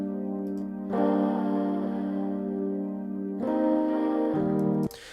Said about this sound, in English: I do have a delay that I kind of slapped on the sample